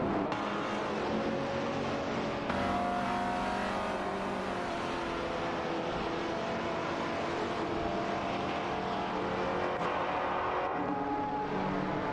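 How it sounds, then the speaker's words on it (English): Racing car engines from AI-driven cars in a racing game roar steadily and loudly throughout as the pack takes a tight turn, with layered engine tones shifting and revving without pause. "The AI-driven cars are now entering a tight turn"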